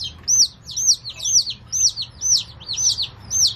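A small chick peeps repeatedly, seven or so high, sharp chirps in a steady rhythm, close by over a faint low hum.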